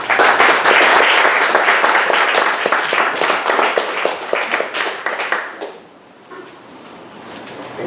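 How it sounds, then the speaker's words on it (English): Audience at a talk on psychedelic futurism gives a loud, dense round of applause that rolls on for several seconds, then tapers off into scattered claps and quiet. "a big round of applause for Marcelo"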